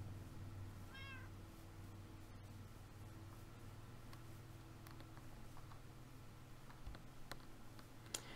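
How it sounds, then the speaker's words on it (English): A cat in the video game Minecraft gives one short, clear meow near the start, followed by faint scattered clicks over a low background hum. "Yay, I cannot believe we get a cat."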